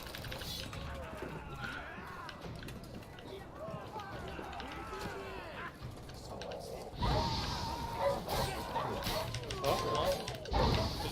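Dogs barking in The Witcher 3: Blood and Wine amid busy game noise and running footsteps, with someone talking over it; the barks grow louder and more frequent toward the end.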